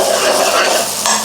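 Onions, garlic and salt fry steadily in a pan with a continuous close sizzle, while a utensil scrapes and stirs through them, no voices over it.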